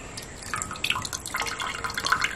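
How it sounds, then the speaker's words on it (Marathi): Water dripping and trickling as soaked urad dal is drained in a village kitchen before grinding on a stone slab, a steady close patter of drops and small splashes with no talk. "पाण्यातून काढून घेते मी आणि मग बारीक करूया पाट्यावर. ओके. पाणी सगळं काढून घ्यायचं त्याचं."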